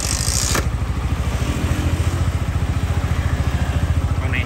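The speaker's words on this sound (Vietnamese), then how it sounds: "Để nổ máy cho anh em mình nha." A motorcycle engine kicks into life with a brief whirring start, then settles into a steady, evenly pulsing idle close by, with no one speaking.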